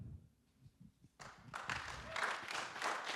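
At a county commissioner debate, the audience breaks into applause after a near-silent moment. The clapping swells quickly into a dense, moderately loud burst heard from across the room.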